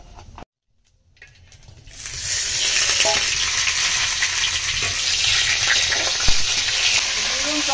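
Nigella seeds tempering in hot oil in a kadai: after a brief silence, a bright sizzle builds up and holds steady and close, broken by a few sharp pops and stirring knocks.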